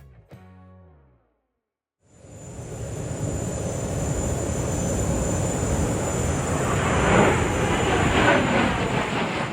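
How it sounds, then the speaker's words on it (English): An airplane passes overhead at the Dubai Airshow, a loud broad engine roar that swells in after a brief quiet gap and holds steady, peaking mid-pass with a faint high whine riding above. "a plane appeared in the sky"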